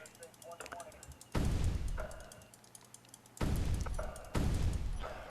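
Heavy blasts from a 120 mm gun in the game Space Engineers, three loud booming shots with decaying rumbles, the last two close together, over a low mechanical background.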